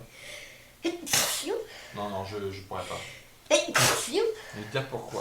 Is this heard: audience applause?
no